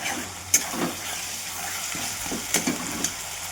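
Cumin, turmeric and salt stirred into a spice masala sizzling in a pan, a steady frying hiss with a few sharp spoon scrapes and stirring clatters, close and moderately loud.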